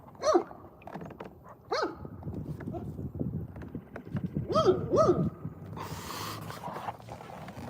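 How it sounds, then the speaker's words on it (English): A dog on the shore barks several times in sharp, separate bursts, moderately close, toward someone paddling nearby while fishing, with quieter rustling and outdoor noise between barks. "This is the dog that's barking at me."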